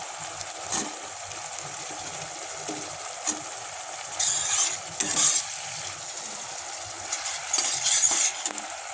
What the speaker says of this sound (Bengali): এবার পনিরের টুকরোগুলো দিয়ে দেবো।